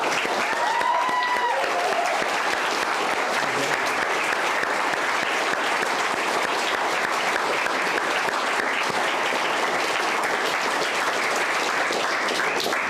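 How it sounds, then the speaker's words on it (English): Dense, sustained applause from an audience at the grand final of a public speaking competition, a steady wash of clapping that fills the whole stretch without pause. "So just one more final round of applause for each of those"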